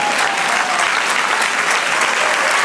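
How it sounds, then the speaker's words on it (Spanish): A church congregation claps during a Spanish-language sermon, a dense, loud, steady applause that fills the whole moment without pause. "Den un aplauso al Señor."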